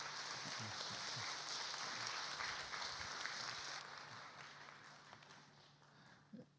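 A church congregation at an autumn Bible study session applauding, a soft, dense wash of distant clapping that holds steady and then slowly fades away near the end.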